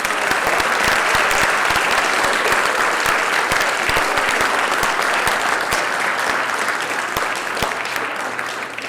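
A large audience at a school orchestra concert applauds steadily, a dense wash of clapping with no break that fades slightly toward the end.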